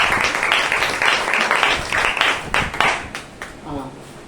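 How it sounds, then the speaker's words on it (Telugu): A group at a Telugu Christian gathering where Bibles are handed out claps together in a close, loud burst of uneven hand claps that tapers off, with a voice speaking near the end. "ఓకే, చప్పట్లు కొట్టండి అందరూ కూడా."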